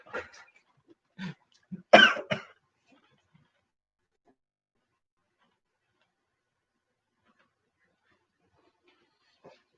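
A few short, sharp coughs close to the microphone, clustered near the start, then near silence with a tiny click at the end.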